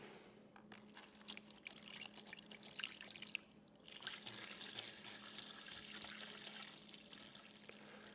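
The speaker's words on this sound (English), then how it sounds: "And we'll just pour it in." EvapoRust rust remover liquid pours steadily from a jug into a container holding a classic axe head, a continuous close trickling splash with a brief pause midway and no talk.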